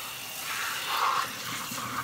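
Hot water gushes steadily from a tap while stencils are being cleaned, a close, even hiss without pauses and with no voices.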